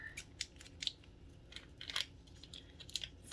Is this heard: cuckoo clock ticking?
no